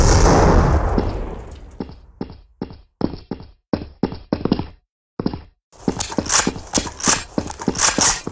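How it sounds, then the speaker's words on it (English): A video-game grenade goes off with a loud blast that fades out, followed by a string of sharp, clipped impact bursts separated by silent gaps and then more rapid pops, with no voices. "throwing a grenade"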